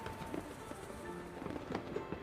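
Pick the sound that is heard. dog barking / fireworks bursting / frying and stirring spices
fireworks bursting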